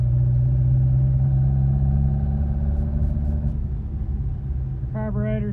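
A Datsun 521 pickup truck engine with a carburetor still needing tuning runs steadily, its low rumbling idle droning loud and close throughout, with a brief higher rattle near the end.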